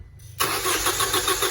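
A luxury car's starter cranks the engine after a brief quiet moment, then keeps grinding in a steady rhythmic pulse without catching, loud and close.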